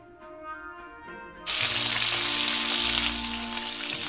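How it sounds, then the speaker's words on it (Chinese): Fatty pork belly dropped into a dry wok bursts into loud, steady sizzling after a quiet opening of faint kitchen hum, the frying hiss continuing close and strong. "先把比较肥的那个肉 放到这里头煎一下"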